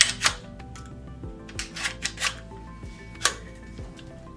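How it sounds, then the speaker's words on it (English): Sharp mechanical clicks and metallic snaps from a NEMO Mongoose rifle as its bolt is locked to the rear during assembly, a few distinct loud transients spread over several seconds with quieter handling rattles between them. "Lock the bolt to the rear"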